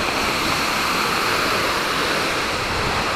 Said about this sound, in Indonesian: Ini dia air terjun Lembah.